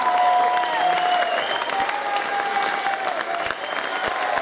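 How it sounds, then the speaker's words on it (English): Steady, sustained audience applause fills a birthday concert, dense and continuous with cheering and whistles riding above the clapping throughout. "applause, Elana."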